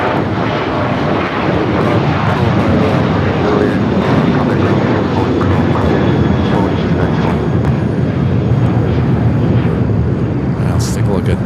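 A Boeing 737-900ER jet engine roars loudly and steadily at LAX airport, a continuous close rumble with no speech.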